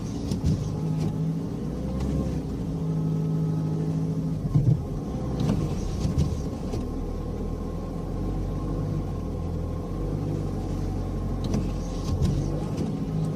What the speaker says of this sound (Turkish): Vallahi benim araba gitmiyor. Patinajdayım. Ben patinaj çekiyorum.